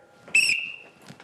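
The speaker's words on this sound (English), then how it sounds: "I blew my whistle." A sharp, shrill whistle blast rings out once, loud and close, then quiet room noise and faint shuffling follow.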